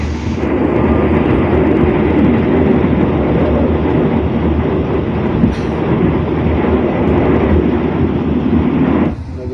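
The KA Progo economy passenger train, a new-generation Indonesian service on the Jakarta–Yogyakarta line near Wates in Kulon Progo, rumbles loudly and steadily from close range, then cuts off abruptly at the end.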